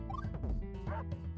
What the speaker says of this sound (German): Oh, der Hund.